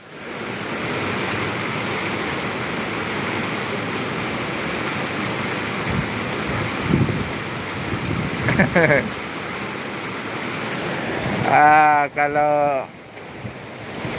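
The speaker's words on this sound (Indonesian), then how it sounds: "Di sini di Palembang lagi hujan." Steady rain falls in Palembang as a broad, continuous hiss, with brief vocal-like sounds breaking through near the end.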